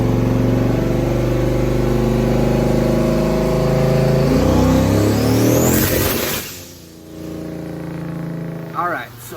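A turbocharged car engine pulls hard toward 20 pounds of boost, a loud close roar that climbs in pitch for several seconds before the throttle lifts and the sound drops away.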